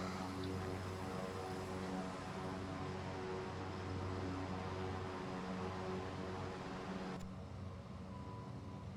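Steady engine drone of a Saab 340 turboprop in Microsoft Flight Simulator 2024 after takeoff, a constant broad hum with low harmonic bands, no talking.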